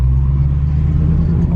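A Dodge Hellcat's engine rumbles deep and loud up close as the car is put in gear and pulls away, a steady low drone with no voices over it.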